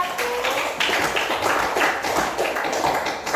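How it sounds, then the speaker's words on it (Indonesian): Students in a classroom clap for a presenting group, a steady patter of many hands clapping close by for a few seconds. "Beri tepuk tangan untuk kelompok 1."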